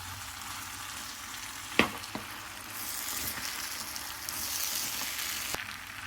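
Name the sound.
stirring and sizzling kala chana chaat in a pan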